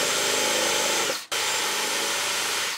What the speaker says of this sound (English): You want to come in and countersink them.